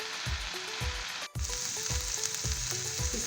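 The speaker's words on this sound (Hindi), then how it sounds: "भूनते रहेंगे ताकि इसमें अच्छी सी खुशबू आ जाए" Mutton pieces frying in a pan give off a steady sizzle, with soft rhythmic scraping as they are stirred. A short scrape lands roughly every half second, and a brief pause breaks the sound partway through.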